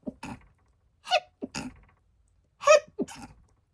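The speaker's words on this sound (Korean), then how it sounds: "제가 방금 재채기한 건데 재채기 소리가 좀 특이하잖아요." A person's unusual, distinctive sneezes: several sharp bursts with brief gaps between them, close and fairly loud, no talking.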